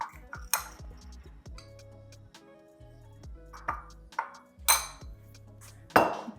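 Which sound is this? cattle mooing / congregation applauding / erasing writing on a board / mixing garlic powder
mixing garlic powder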